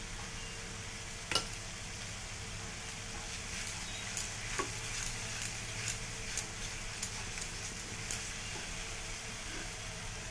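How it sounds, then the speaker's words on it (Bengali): Vegetables with paneer and a pinch of sugar being stir-fried in a pan: a steady sizzle throughout with scattered sharp scrapes and clacks of a spatula against the pan, fairly close, with no talking. "এবার এটাকে ভালো করে একটু কষে নিচ্ছি আমি।"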